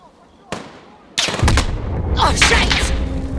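Gunfire erupts in the Call of Duty Warzone video game: a lone sharp shot, then a loud burst of rapid close shots followed by continued crackling fire and booming echoes.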